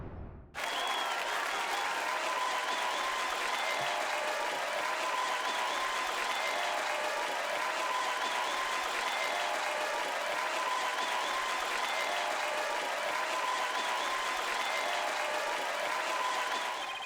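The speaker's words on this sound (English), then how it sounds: "Play that cheer thing on repeat." A courtroom crowd cheers and applauds in the Ace Attorney Dual Destinies video game, a dense, even roar of clapping and cheering that starts abruptly and holds steady at full strength for a long stretch.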